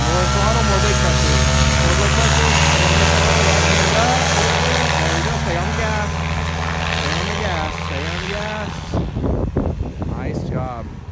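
A paramotor engine and propeller drone loudly and steadily under throttle during a first powered paraglider flight, a close buzzing roar that eases off toward the end, with faint bursts of talk over a radio.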